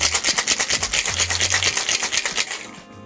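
Ice rattling hard in a metal cocktail shaker tin during a fast shake to chill a pineapple and watermelon highball, a steady rapid rhythmic rasp filling most of the clip before stopping abruptly near the end.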